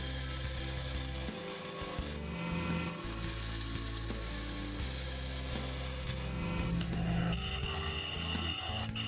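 A wooden awl blank spins on a lathe as it is trued up, giving a steady droning hum with scraping, rubbing tool contact and short bursts of rougher cutting, close and continuous.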